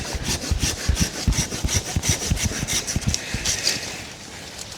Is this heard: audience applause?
no